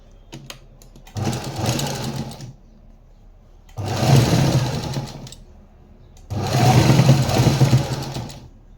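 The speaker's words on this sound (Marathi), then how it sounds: "ह्याची एक शिलाई घेऊयात" A sewing machine stitching fabric for a balloon-sleeve blouse runs in three separate bursts, each a steady close mechanical whir of a couple of seconds, with quiet gaps between them.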